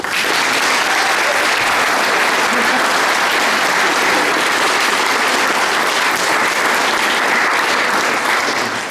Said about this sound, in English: let's all put our hands together and clap for the beautiful couple.